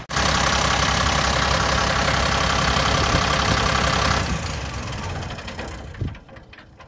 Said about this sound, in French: On peut démarrer du moteur et on peut le couper du moteur.